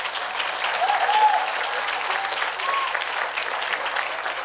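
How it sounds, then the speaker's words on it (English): Audience applause fills a graduation and open house devotional session, a steady dense wash of clapping at moderate loudness that holds evenly throughout. "Give them a big round of applause."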